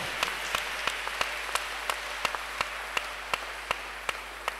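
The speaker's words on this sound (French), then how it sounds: "Est-ce que vous pouvez vous apprécier vous-même en acclamant très fort?" Church audience at a French-language sermon applauds in a dense, sustained wash of clapping, with a few louder distinct claps standing out at a steady rhythm throughout.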